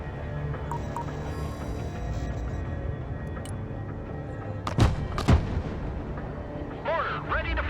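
Artillery fires in the video game Broken Arrow on an artillery training ground: two sharp booms about half a second apart rise over a steady, dense background rumble.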